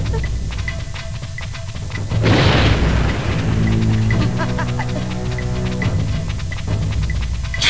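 A bomb blast in the Conker's Bad Fur Day video game: a single deep, rumbling boom that bursts in suddenly and rolls on with a low sustained roar, set against game music and effects.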